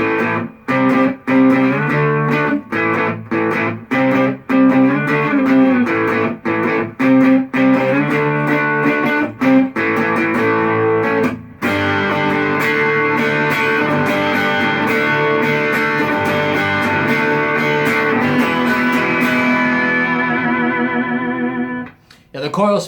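PRS SE Dave Navarro electric guitar played through distortion with coil split engaged, choppy muted riffs giving way to long sustained chords that ring out and fade, loud and close.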